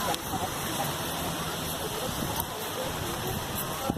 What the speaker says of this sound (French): Voilà, il y a quelques vagues.